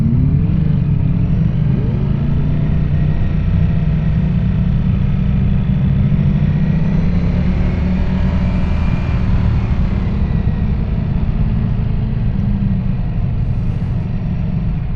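A 2025 Ducati Streetfighter V4S motorcycle engine runs loud and close, holding a steady deep rumble for the whole stretch, with a slight rise in pitch partway through and no talking.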